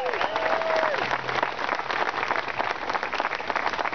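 A crowd applauds loudly and steadily, dense clapping filling the room throughout with a few whoops mixed in.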